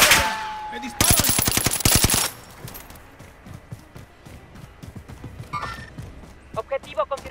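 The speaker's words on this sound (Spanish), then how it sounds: "¡Me disparan!" Video game gunfire: a loud rapid burst of automatic shots, then quieter footsteps and scattered distant shots, with someone speaking over parts of it.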